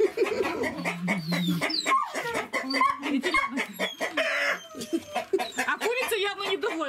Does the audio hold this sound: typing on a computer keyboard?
no